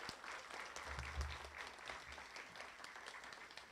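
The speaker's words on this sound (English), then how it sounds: "Can we have a big hand, a big applause for a Region 1?" Steady applause from an audience for Migrant Education Region 1 at a speech competition awards ceremony, a continuous wash of clapping at moderate distance with no talk over it.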